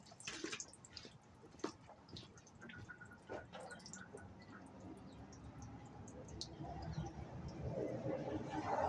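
Hydraulic oil dripping from a backhoe lift cylinder onto concrete, heard as scattered drips and trickles over a steady background wash that grows slightly louder toward the end.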